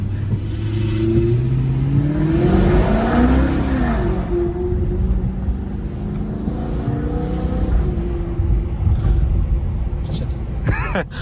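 A car engine revs and holds steady between 2000 and 3000 rpm, rising and falling in pitch, with people talking over it throughout.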